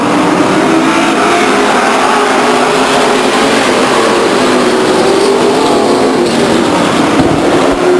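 Stock cars racing at Stockton 99 Speedway in 1999, a loud, continuous roar of several engines packed close together at full throttle, filling the whole stretch without a break.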